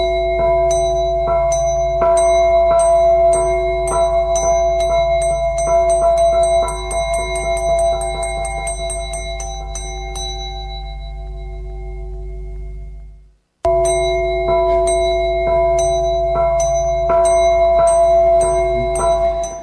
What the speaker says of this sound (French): Le gong pour la première page promotionnelle